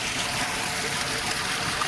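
Irrigation water runs continuously through a channel into a pigeon pea field on a farm, a steady close trickling rush with no break and no talking.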